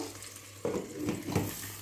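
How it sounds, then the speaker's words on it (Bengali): Brinjal slices fry in a pan with a soft, low sizzle that swells slightly after a moment, joined by faint bubbling and a light stirring rustle, quiet and close, with no talking. "বেগুনের এক পাশটা ভাজা হয়ে গেছে, আরেক পাশটা ভাজা হোক।"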